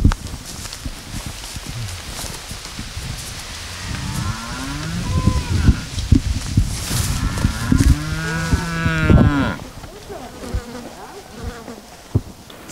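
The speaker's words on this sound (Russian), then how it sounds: "Здесь, возле реки, которая стала своеобразной границей, пасется кормилица семьи – корова Марта." Family cow grazing by a river, with insects buzzing close by: a couple of low moos rise and fall over the middle stretch, louder near the end, then the sound drops back to outdoor buzzing and faint rustle.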